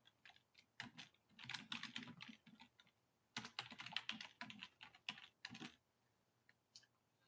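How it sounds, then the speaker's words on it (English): Fingers tap a computer keyboard in close, quiet bursts of rapid keystrokes, pausing briefly between runs, with one louder cluster in the middle and no talking. "I just want to type a little notice."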